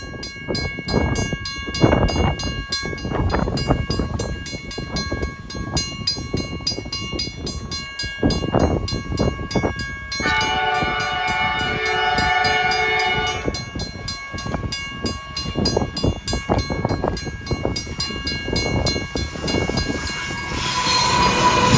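A train rumbles past close by, with rhythmic wheel clatter throughout and a long horn blast sounding partway through.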